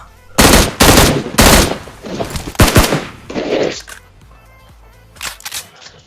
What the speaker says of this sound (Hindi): तो मैं यहाँ आके बोट फायर देने लगता हूँ